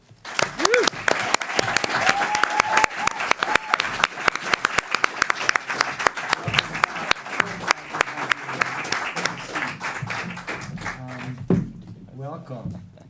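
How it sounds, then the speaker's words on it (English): Loud, sustained audience applause at a peace panel, dense clapping with sharp individual claps standing out, a voice speaking over it near the start and again as the clapping fades toward the end. "I want a very big applause for two people from Kabul"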